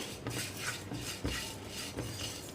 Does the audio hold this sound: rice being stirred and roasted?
yes